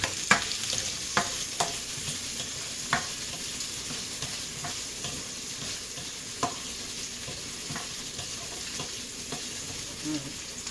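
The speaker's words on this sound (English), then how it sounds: "Put them just a little bit sauteed together so it breaks them up." Onions sautéing in a pan with garlic and Scotch bonnet pepper, a steady close sizzle broken by sharp clicks and scrapes of stirring at irregular intervals, with no voices.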